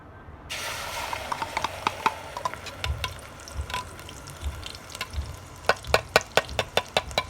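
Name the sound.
spices (masala) frying in oil for mutton curry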